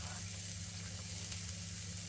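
Onion and garlic fry in a pan, giving a soft, even, continuous sizzle heard close and fairly quiet, with no talking.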